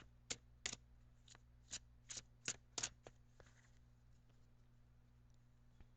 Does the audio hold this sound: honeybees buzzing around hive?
no